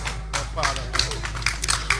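Scattered audience clapping at a retirement homecoming ceremony for a general, a handful of sharp, uneven claps rising and falling over a low steady hum, with voices talking over it.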